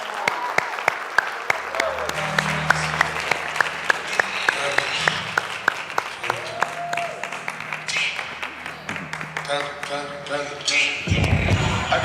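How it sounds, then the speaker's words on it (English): An audience at a talk on lawyer blogging applauds to welcome a speaker to the stage. The clapping is dense and sustained, with sharp individual claps standing out up close and some crowd murmur mixed in. "help me welcome to the stage with a thunderous round of applause"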